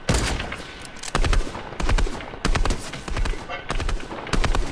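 Rapid bursts of automatic gunfire in a shooter video game, several loud volleys separated by brief pauses, crackling close to the player.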